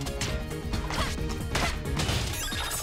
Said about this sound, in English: Smashing rocks.